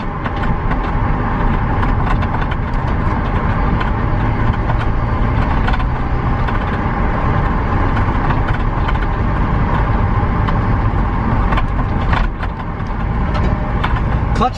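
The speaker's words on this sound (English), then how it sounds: "Oh yeah, big misfire now. Just gutless." A BMW E46 323ci with a big misfire runs steadily and loudly close by for the whole stretch, its engine note rough and uneven, with no speech over it.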